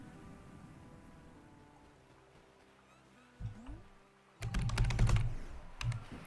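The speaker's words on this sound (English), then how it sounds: "I'm just gonna do this code on the keyboard because it's faster." A code is typed on a computer keyboard during a Fez speedrun. After a quiet stretch with a few soft taps, a quick burst of close, clattering keystrokes begins midway and continues to the end.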